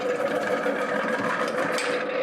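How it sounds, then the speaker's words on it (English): A Robot Coupe CL50 food processor slices beetroot into 5mm slices, giving a steady close motor whir with a faint choppy rattle from the blade, and no voices. "And we get nice sliced beetroot."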